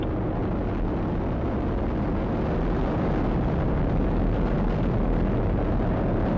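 SpaceX rocket engines roar during a Dragon launch to the International Space Station, a constant loud broadband rumble with no pauses.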